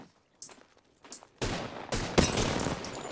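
Bursts of rapid gunfire in a ranked arena shooter game, starting faint and sparse, then turning loud and sustained with several sharp volleys over the last half.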